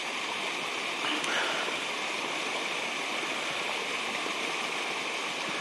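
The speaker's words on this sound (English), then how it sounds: "That's waterfall number one." A small waterfall on a creek trail gives a steady, close, broadband rush of falling water that holds level throughout without any voices.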